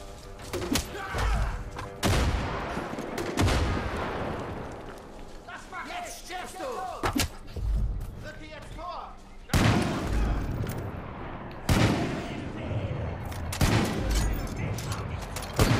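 Gunfire in the shooter video game Far Cry 5, a series of loud sharp shots and bursts spread across the clip, with someone talking over and between them.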